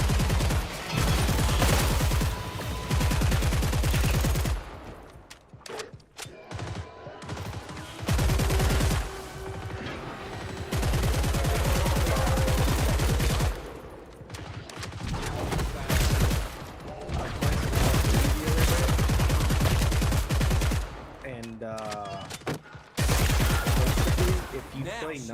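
Video game gunfire using overpressure rounds: loud, dense volleys of shots come in long bursts separated by brief lulls, with occasional voices in the quieter moments.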